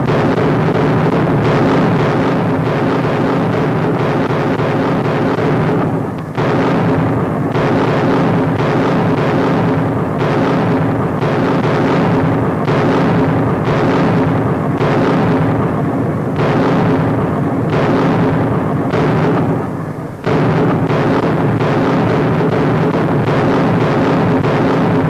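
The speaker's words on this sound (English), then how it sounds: "As darkness falls, the Allied big guns go into action" Allied artillery firing at night in a 1943 wartime newsreel: a dense, continuous barrage of booms and blasts in quick irregular succession, loud and sustained throughout on an old, hissy recording.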